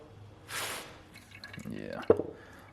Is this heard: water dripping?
yes